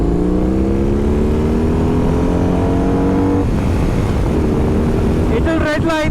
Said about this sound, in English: Once if you're out riding and you open throttle in the second gear,